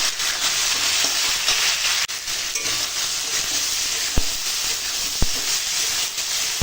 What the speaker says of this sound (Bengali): সয়াবিনটা দিয়ে একসঙ্গে ভাজবো আলুটাও ভাজা হয়ে যাবে তার সঙ্গে সয়াবিন ভাজা হয়ে যাবে